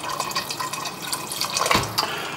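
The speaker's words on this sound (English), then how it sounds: "just to add a tiny bit more water just to cover" Water is poured into a pot of roasted cauliflower and parsnip soup, a close, steady splashing and gurgling stream with small drips and a brief clunk near the end.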